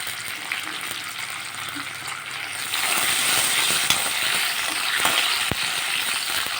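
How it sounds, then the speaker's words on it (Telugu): Fenugreek leaves fry in hot oil with a steady, dense sizzle that grows louder midway, while occasional stirring clicks and scrapes sound close by. "ఈ మెంతి కూరని ఆయిల్లో బాగా వేగనివ్వాలి"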